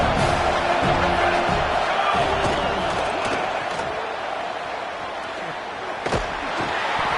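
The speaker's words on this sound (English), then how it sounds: "this crowd is turning it up a notch" A football stadium crowd roars on second down, a dense wash of cheering that holds loud, dips slightly, then surges again with a sharp impact near the end.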